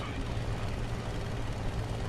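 Aircraft engine in the War Thunder simulator battles game, a steady low rumbling drone holding constant throughout without any speech.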